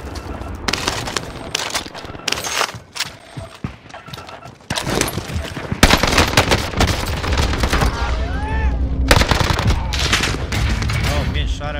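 Video game gunfire rattles in rapid bursts and fusillades, dense and loud throughout, with players talking over it and the shooting growing heavier in the second half.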